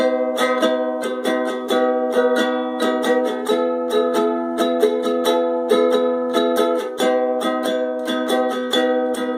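Ukulele strummed in a brisk, repeating down-up rhythm, chords ringing clearly and evenly with no voices.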